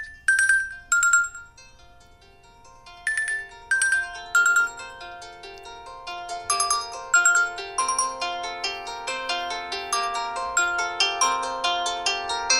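A Nokia X100 phone plays its default ringtone, a bright melodic chime pattern that starts as sparse repeated phrases and then fills into a denser, rising sequence of notes, clear and alone.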